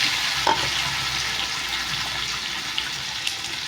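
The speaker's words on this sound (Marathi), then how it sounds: "कांदा पण आपल्याला चांगला भाजून घ्यायचा तेलामध्ये." Sliced onion frying in hot oil for dal khichdi, a steady bright sizzle throughout with a few faint clicks, close and alone.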